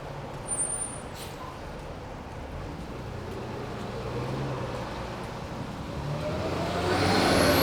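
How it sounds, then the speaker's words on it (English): A Toronto route 97 city bus passes on a wet, snowy midtown street, a steady road rumble and tire hiss that swells and grows louder toward the end, with no talking. "And that's the 97 bus."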